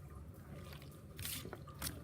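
Seasoned cooked macaroni noodles are stirred together in a bowl, making soft wet squishing and sticky clicking sounds, faint and close, with a couple of slightly louder smacks.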